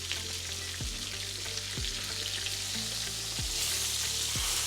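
A steak sears in a hot pan with a loud, steady, close sizzle that fills the whole stretch. A few low thumps and falling tones sound underneath at intervals.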